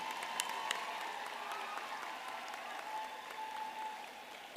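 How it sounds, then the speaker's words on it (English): A graduation ceremony crowd applauds the Faculty of Management Sciences graduates, a sustained wash of clapping with light cheering, heard from a distance in a large hall at fairly low level throughout. "please join me in giving a big round of applause to all of our graduates"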